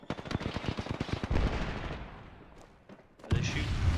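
Rapid bursts of automatic gunfire from a firefight in the battle royale game Apex Legends, a fast rattling volley for over a second, then a fading tail, a couple of sharp cracks and a renewed loud burst near the end.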